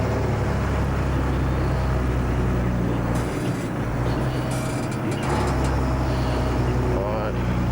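The 1981 Volvo F12 truck engine drones loud and steady under full gear, a deep rumbling hum that dips briefly as revs drop, with someone talking over it from inside the cab.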